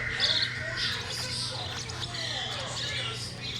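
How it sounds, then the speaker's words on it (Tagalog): Squawks from a pet bird in a backyard feeding setting ring out in short bursts over steady background noise, with someone talking throughout. "Ang ganda ng ibon na to."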